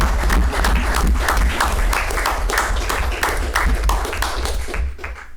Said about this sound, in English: So one last round of applause.